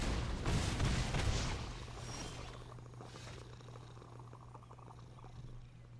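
A cat named Hawkeye purrs close by in a low, steady rumbling rhythm after a brief louder burst of sound at the start, continuing softly and evenly to the end.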